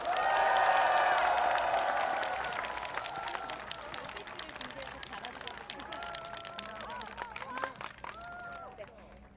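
Crowd applause and cheering at an outdoor political rally in Seoul, loud at first and gradually thinning into scattered clapping and crowd murmur, with a tonal whistle or horn and voices mixed in.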